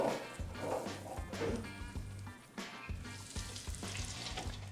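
Potatoes frying in a deep fryer at 300°F for a breakfast poutine: a steady, crackling sizzle of bubbling oil with occasional knocks and stirring sounds, close and continuous.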